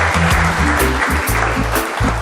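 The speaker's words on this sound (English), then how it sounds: "We get a round of applause, please," An audience at the Gleaner UK Honour Awards 2023 in London claps for a list of nominees, a dense, steady applause over loud, pulsing low music throughout.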